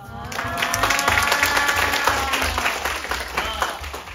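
Dense applause from a theater audience at a student stage play crackles steadily for several seconds, an even wash of many hands clapping.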